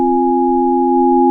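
A plain synthesized sine wave holds one steady, pure pitch without wavering, loud and alone, with no other sounds for over a second.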